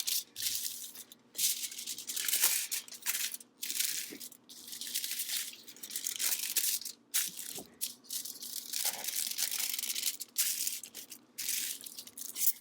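Tin foil crinkles and crackles as it is folded over the sides of a sheet of cardboard, a close, busy rustling with short quiet gaps between handling strokes.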